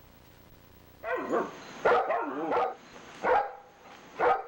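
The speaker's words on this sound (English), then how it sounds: "I love this dog." A dog barks close by in several short, loud bow-wows and yips, spaced irregularly against a quiet background.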